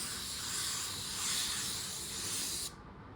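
A spray gun laying down a second coat of automotive paint, a close, steady airy hiss lasting under three seconds before cutting off abruptly.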